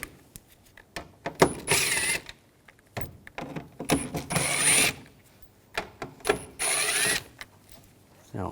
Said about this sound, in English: We're going to take these screws out up top. Use a T25 socket.